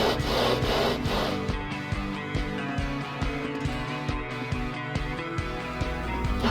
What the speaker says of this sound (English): Install the flywheel and spin it back and forth to mate the surfaces.